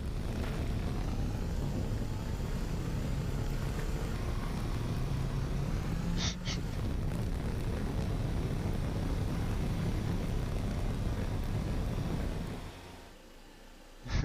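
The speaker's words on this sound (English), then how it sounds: "We're going for a vertical takeoff." An aircraft making a vertical takeoff in the video game Teardown, with a steady, loud engine roar that holds for many seconds, breaks briefly once, then drops off near the end before a final burst.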